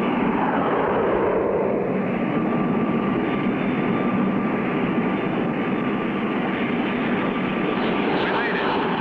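A small plane's engine drones steadily and continuously in flight in a 1959 cartoon about a test flight. Voices talk over the constant hum throughout.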